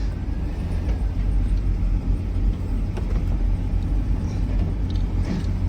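A hurricane-flooded 70k-mile Chevrolet Trailblazer with a 4.8 engine idles steadily, running rough with a slight misfire, giving a constant low rumble with no talk.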